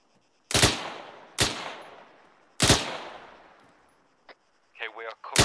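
Three loud, sharp rifle shots crack out in an ArmA 3 military patrol, spaced about a second apart with long echoing tails, followed by a short spoken voice.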